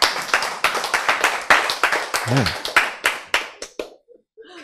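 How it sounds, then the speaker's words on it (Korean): An audience claps in a lecture hall, with a few seconds of quick, rhythmic, close applause that thins out at the end while a voice briefly speaks. "박수!"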